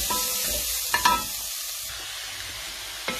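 Grated carrots fry in hot butter over a high flame, a soft steady sizzle broken by a few sharp scrapes and clinks of a utensil stirring the pan, with no one talking.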